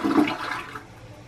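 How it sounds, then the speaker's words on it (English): A toilet fitted with a Luxe Neo 120 bidet attachment flushes in a short, close rush of water that peaks quickly and then fades into a quieter trickle within about a second. "let's see if it flushes first"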